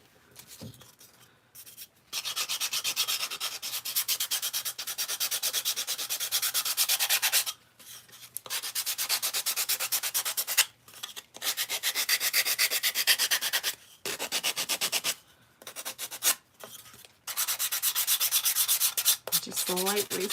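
An electric sander whirs in long bursts, lightly sanding painted craft wood, stopping briefly between passes, close and fairly loud.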